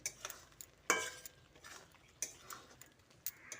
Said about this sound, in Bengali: এবার কাঁচা সর্ষের তেল আর ধনে পাতাটা দিয়ে পটল ও আলুর সঙ্গে ভালো করে মিশিয়ে নিচ্ছে